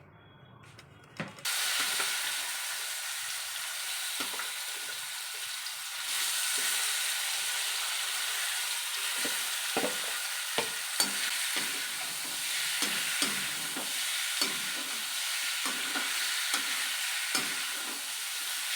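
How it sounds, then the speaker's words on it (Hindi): Boiled jackfruit fries with turmeric in a pan, a steady soft sizzle broken by frequent scraping stirs and clinks of the spatula, moderately close and with no voices. "मैं इसको फ्राई करके हल्दी डाल के फ्राई करके रख लेती हूँ।"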